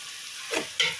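Ground paste and curry leaves sautéing in a pan for green pea rice: a quiet background sizzle broken by two short scraping stirs close by.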